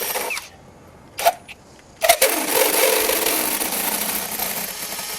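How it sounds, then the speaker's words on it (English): A power drill with a hole saw bores a mounting hole for a marine LED light: two short bursts, then a steady, sustained cutting whine that runs on, close and alone. "You drill the hole with the appropriate size hole saw."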